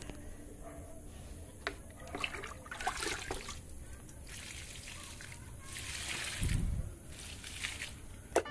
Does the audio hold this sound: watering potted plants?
yes